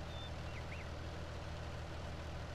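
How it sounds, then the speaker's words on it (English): A modded tractor in a farming video game idles with a low, steady engine drone, constant and fairly quiet with no voices over it. "This is a mod. It's just a nice all-around tractor."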